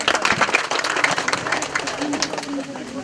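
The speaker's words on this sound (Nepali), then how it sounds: "आदरणीय भक्तजनहरू गरेर तालीले स्वागत गरौँ।" An audience at a Shrimad Bhagwat Puran religious ceremony and book launch in Listikot, Sindhupalchok, claps in a dense burst of overlapping handclaps that fades over a few seconds, with voices mixed in.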